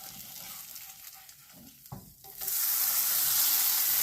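Cheese frying in a pan with grease cooking out, a steady crackling sizzle that swells louder and brighter partway through and then holds at a dense, hissing level.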